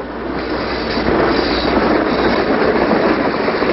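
Freight train rolling along the rails, a loud continuous rumbling roar with faint wheel clatter, close by and steady throughout.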